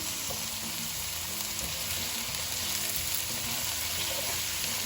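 Shrimp sizzle loudly in a hot pan while egg foo yong is prepared with shiitake mushrooms and spring onions, a dense, continuous close-up frying hiss with no talking.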